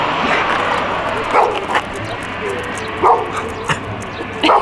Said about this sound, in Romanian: Stai așa să nu mă muște câinii.